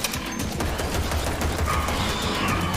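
A gun firing nonstop in the retro shooter Project Warlock II, a fast, evenly spaced stream of shots over a busy game din, loud and close, without any voice.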